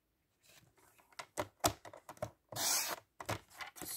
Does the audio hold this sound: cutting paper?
yes